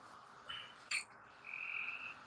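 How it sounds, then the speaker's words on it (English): Tree frogs croak in the background, a few faint, brief calls and one longer trill standing out over a quiet outdoor hum with no talk. "That's just the frogs in the background."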